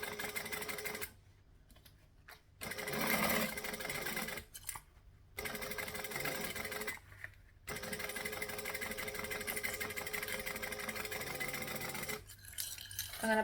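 A sewing machine stitches a travel bag in several runs of steady motor whir and needle chatter, separated by short pauses, close and fairly quiet with no talking.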